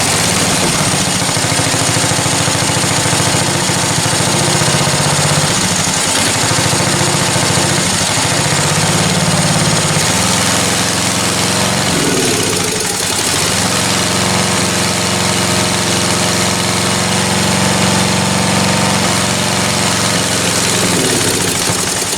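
A free used lawn tractor's small engine runs continuously on choke, a loud, close, steady mechanical drone with rough vibration and slight speed wavers, no talking.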